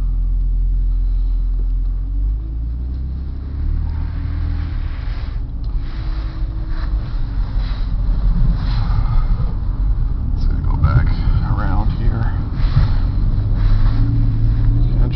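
A car engine idles in about minus ten degree cold while warming up, a steady low rumble slightly rising in intensity, with faint clatter and muffled sounds around it.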